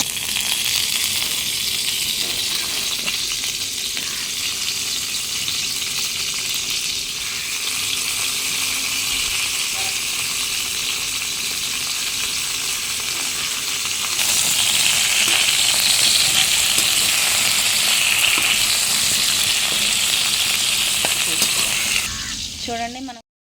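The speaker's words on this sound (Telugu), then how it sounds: "ఫ్రై చేసుకుందాం." Bitter gourd pieces fry in oil in a kitchen pan, a loud, dense, continuous sizzle that swells a little partway through and carries faint stirring scrapes underneath, with no talking.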